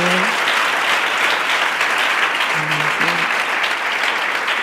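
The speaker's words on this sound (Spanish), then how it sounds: "le quieren dar ese aplauso al Espíritu Santo" A church congregation applauds the Holy Spirit with loud, sustained clapping that fills the whole stretch, with a few faint voices calling out in the crowd.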